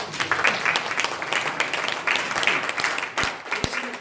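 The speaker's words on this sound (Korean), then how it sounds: "박수 한번 주십시오" Seated attendees at a Lions Clubs International District 355 promotional briefing break into applause, a steady patter of many hands that thins toward the end to a few sharp individual claps.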